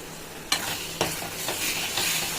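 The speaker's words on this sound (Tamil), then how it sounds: "எல்லாத்தையும் சேர்த்து நல்லா கலந்து விட்டுறலாம்" Chili powder and turmeric stirred into squid frying in a pan, with a steady sizzle and a few sharp scrapes of the spoon at intervals, close and moderately loud.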